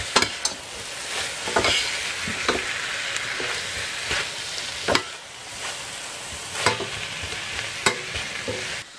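Carrots fried in a pan and stirred, with scraping utensil strokes recurring every second or so over a steady close sizzle.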